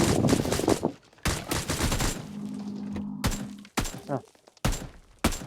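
Gunfire in the mobile shooter PUBG: New State comes in several loud, rapid bursts separated by short pauses, with a brief low hum between volleys.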